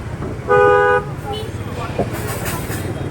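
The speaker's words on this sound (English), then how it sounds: "And people keep honking all the time." A single car horn toots loudly for about half a second amid steady street traffic noise in Hanoi's Old Quarter, with a faint voice in the background.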